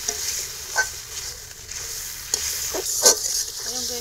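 A turmeric spice masala, loosened with a splash of water, sizzles and fries in a pan while a spoon stirs it in uneven scrapes. Close, with a brief faint voice near the end.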